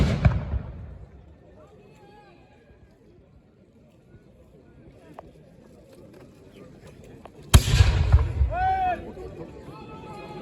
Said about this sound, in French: Tir de canon Hirtzenberg.